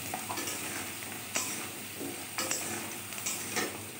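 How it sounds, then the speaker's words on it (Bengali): Fried potato pieces are lifted out of hot oil with a spatula while making a vegetarian arum (man kochu) curry, giving a steady sizzle with occasional scraping and stirring clinks, close and fairly quiet. "আমি তেল থেকে আলুটাকে তুলে নিচ্ছি।"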